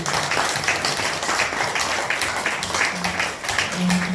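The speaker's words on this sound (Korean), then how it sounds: "많은 격려의 박수 부탁드립니다" An audience at a talk about the fence along the inter-Korean border breaks into sustained applause, a dense wash of many hands clapping for several seconds with faint voices mixed in.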